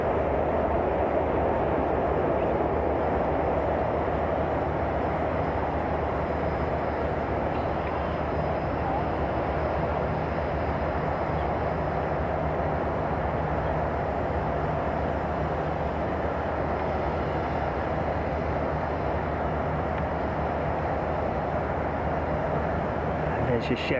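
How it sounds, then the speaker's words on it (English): Boeing 787 Dreamliner engines spool up at Miami International Airport, a steady, dense jet roar that holds loud and even for the whole stretch without fading. "Straight out for this Dreamliner. Listen to how quiet the spool up is on there."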